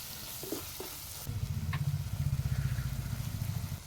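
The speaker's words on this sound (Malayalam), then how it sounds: "നന്നായിട്ടൊന്ന് ഇളക്കി കൊടുക്കുക" Coriander powder stirred into a frying Palakkad-style fish curry base, with a low rumbling sizzle that rises partway through and pulses steadily under a few light clinks; no one speaks.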